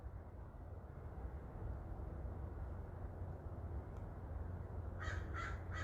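Several crows caw repeatedly in short bursts near the end, loud and fairly close, over a steady low background rumble.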